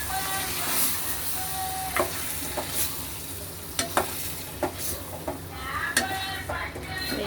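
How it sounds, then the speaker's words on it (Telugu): Crushed garlic and paste sizzling in a frying pan for a chicken gravy curry while a spoon stirs them, with a steady close hiss broken by scraping strokes and clinks against the pan. "వేసి దీన్ని బాగా కలుపుకోవాలి."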